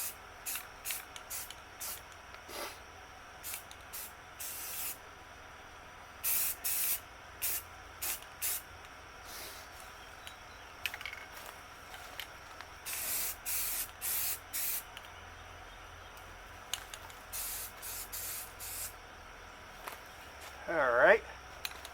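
Spray paint going onto a car for a quick temporary coat, many short and longer hissing bursts in irregular succession, moderately close, with a faint clink near the end.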